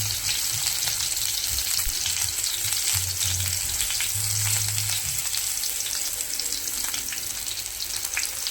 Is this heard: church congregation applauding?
no